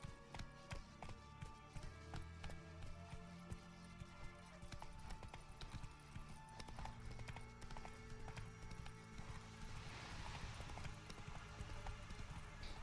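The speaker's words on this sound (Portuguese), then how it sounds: "Ele não derruba o Geralt do cavalo" Horse hooves clip-clopping in the video game The Witcher 3, a quiet, steady trotting rhythm that continues throughout with faint game ambience and no voices.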